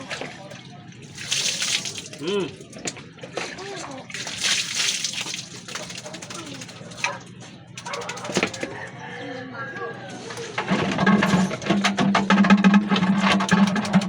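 Water sloshes and splashes continuously during a small child's bath, at close range, with voices talking over it throughout and heavier splashing near the end.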